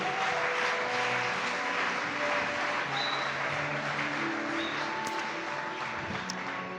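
A congregation applauding the Lord during a morning prayer service, with steady sustained clapping and no voices over it.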